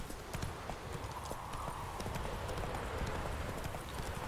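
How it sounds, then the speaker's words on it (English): Steady clip-clop of horse hooves trotting at a brisk, even pace in The Witcher 3: Wild Hunt, moderately loud and close against a constant background rumble. "I called my horse to take me here."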